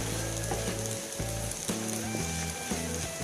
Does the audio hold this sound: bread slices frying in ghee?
yes